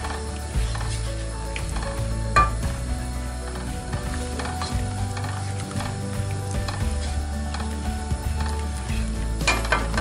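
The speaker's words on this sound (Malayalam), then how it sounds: "വെള്ളം ഏകദേശം തിളച്ചു വരുന്നുണ്ട്." Salted water coming to a boil in a pot for rice pathiri dough makes a steady, close bubbling hiss, with a few faint metallic clanks scattered through.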